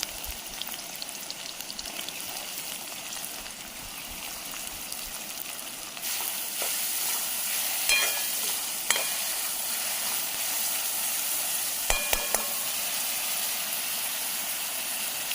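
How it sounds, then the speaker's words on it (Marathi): Garlic and chopped onion frying in a pan outdoors in a forest setting, a steady broad sizzle that grows louder partway through, with a few faint clinks of a utensil on top. "लाल होऊ देत लसूण थोडीशी, त्याच्यानंतर मग कांदा वगैरे टाकूया"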